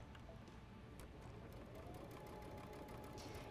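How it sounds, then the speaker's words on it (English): Domestic sewing machine stitching through quilt-block fabric for a clutch, a steady continuous motor whir with fast needle chatter running evenly throughout, close and moderately quiet. "And you're just gonna stitch all the way down."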